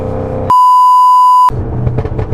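A single steady electronic car sensor beep lasting about a second, loud and clear, cutting in between stretches of background noise.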